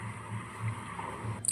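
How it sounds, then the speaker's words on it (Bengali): A boatman rows along a river toward a village landing, his oars dipping in the water with soft, steady splashes and low gurgles, close and continuous for a moment with no voices. "নদীর জলে বৈঠা চালিয়ে গ্রামের ঘাটের দিকে এগোচ্ছে মাঝি"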